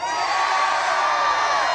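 A crowd of about 800 supporters cheering at a Kentucky political rally, a dense, steady roar of shouts and whoops that holds at full volume without a break.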